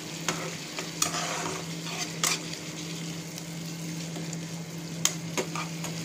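Curd-blended masala for a paneer wrap filling is stirred in a pan, a soft steady sizzle broken by a few sharp spoon scrapes and taps over a low hum.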